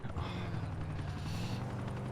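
Helicopter in GTA 4 coming in to land, a constant loud rotor thrum with rhythmic low pulsing, close and alone without speech.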